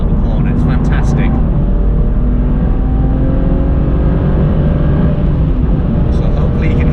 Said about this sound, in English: This car has a full Akrapovic exhaust system, and it completely transforms it.